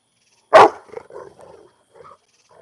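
A dog gives one loud, close bark followed by a few low, quieter growling rumbles in a quiet room.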